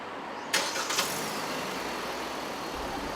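A car engine started with a push button, a brief cranking burst at about half a second that settles into a low, steady idle hum for the rest of the clip, with no talking.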